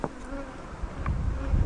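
Honey bees buzz in a steady, busy drone around their hives in an apiary, a close continuous hum that swells slightly toward the end.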